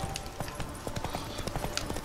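Horse hooves clip-clop at a steady trotting rhythm in The Witcher 3, with repeated sharp hoofbeats standing out clearly over a low background bed.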